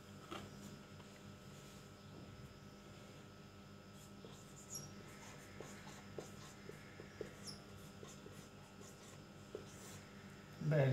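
A pen scratching out shorthand outlines on paper: faint, close, scattered light strokes with a quiet voice in the background.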